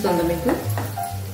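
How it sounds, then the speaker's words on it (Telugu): Bitter gourd pieces fry in a pan over a low flame, giving a soft, steady sizzle close by, with low humming tones layered over it. "ఇవి ఎప్పుడైనా సరే కొంచెం స్లో ఫ్లేమ్లో పెట్టుకుని వేయించుకోండి, అప్పుడే చక్కగా బాగా వేగుతాయి."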